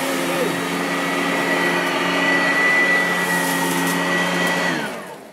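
A Riccar RSL5 upright vacuum cleaner runs steadily with a loud droning whine and constant hum, close by, winding down at the very end.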